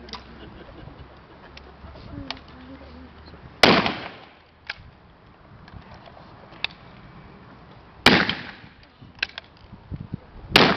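Rifle volleys at a historical exhibition: two sharp, loud cracks of massed gunfire several seconds apart, plus a third at the very end, with scattered single shots and faint outdoor background between them.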